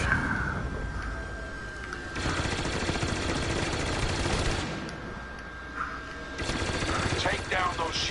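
Rapid starfighter blaster fire from the space-combat game Star Wars Battlefront rattles loudly in sustained bursts, with engine roar and battle noise in between.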